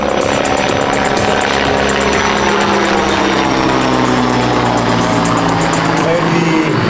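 An AH-129D Mangusta attack helicopter of the Italian Army, built by Leonardo Helicopters, flies at the Caorle Air Show 2024, its steady loud rotor and engine drone running throughout beneath a voice.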